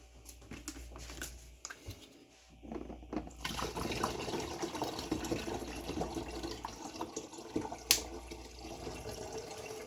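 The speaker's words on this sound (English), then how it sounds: "let's add some cooler water." Cool water splashes and trickles into a container of homemade hard lemonade, with a steady pouring rush after a few clattering handling sounds.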